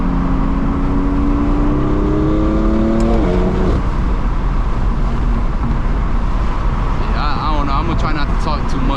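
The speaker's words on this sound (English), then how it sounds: "Try not to talk too much so y'all can hear the car as well." A BMW F82 M4 is driven and accelerates hard, its engine note climbing through rising gear sweeps, then shifting and pulling again, loud and close from inside the car under steady wind and road noise.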